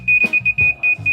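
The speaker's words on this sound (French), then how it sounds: "quand il bip c'est que t'es à la bonne hauteur" Tripod-mounted laser level on a renovation site beeping at the set height: a steady, piercing electronic tone pulsing about six times in quick even rhythm, close and loud, with low rumbling work noise between beeps.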